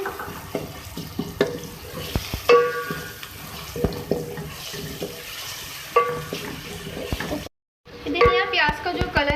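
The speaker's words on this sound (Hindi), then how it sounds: "प्याज से चली गई इसमें, तो भी आप फ्राई कर लें।" Onions fry in a pan for a chicken dish while a spoon stirs them, giving a steady sizzle broken by repeated scraping clinks, a brief silent gap, then more sizzling and stirring.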